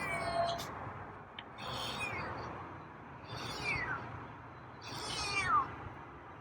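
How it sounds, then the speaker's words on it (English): A feral cat meows loudly several times, four drawn-out calls spaced a second or so apart, over a steady background hum. "Your meows are a bit loud."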